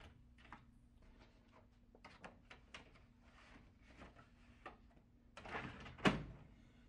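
The plastic paper drawer of an HP Envy 7858 printer slides shut with a quick clunk near the end, preceded by soft handling clicks and rustles in a quiet room.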